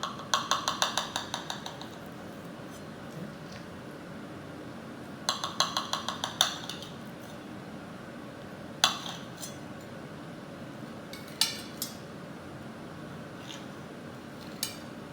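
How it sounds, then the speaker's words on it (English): A knife cuts through a potato tortilla, crispy outside and semi-runny inside, on a plate. Two bursts of rapid scraping clicks are followed by a few isolated sharp clinks, with no talking. "Then we get a knife and cut through this."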